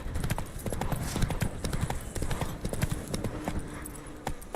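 Roach the horse from The Witcher 3 video game trotting, a dense, rapid clip-clop of hooves that is loud and near, filling the short stretch with quick repeated strikes.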